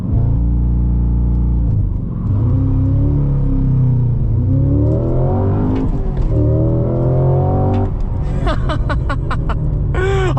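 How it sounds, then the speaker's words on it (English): An all-wheel-drive sedan launches in first gear with wheel spin. Its engine drones loudly, then rises and falls in pitch, and sharp rapid bursts follow near the end. "A bunch of wheel spin"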